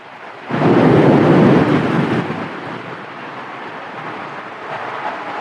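Loud, dense rush of heavy rain or downpour that swells briefly then settles into a steady, softer patter, with no voices.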